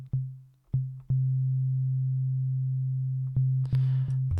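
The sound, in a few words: synth bass sine wave tone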